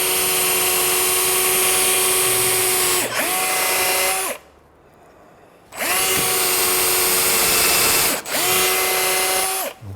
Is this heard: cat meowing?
no